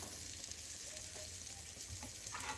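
Egg frying in a skillet with shredded beef and veggies, a steady soft sizzle with hiss running throughout, fairly close, with a few faint clicks of a utensil.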